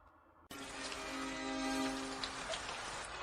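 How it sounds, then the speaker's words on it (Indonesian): Heavy rain pours down outside, a dense steady wash of drops. It begins abruptly after a quiet moment and then holds loud and constant, with a faint sustained tone underneath. "Lia, di luar hujan deras sekali."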